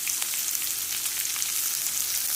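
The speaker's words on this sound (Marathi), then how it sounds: "आता चांगल्याला गोल्डन ब्राऊन करून भाजून घ्यायचं." Onions frying in oil until golden brown with curry leaves, a dense continuous crackling sizzle up close, steady and fairly loud with no voices.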